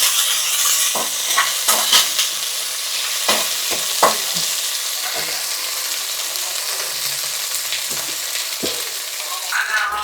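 Curry leaves fry in hot oil for a tomato curry while a spoon stirs them, a steady close sizzle broken by repeated scraping knocks against the pan, with no talking.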